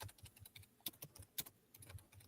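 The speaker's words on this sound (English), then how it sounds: "I'm going to mute my mic because my keys are super duper loud." Computer keyboard keys clatter in quick, irregular bursts of sharp clicks during an online live reading session, close and fairly quiet, with a few louder key strikes standing out and no talking.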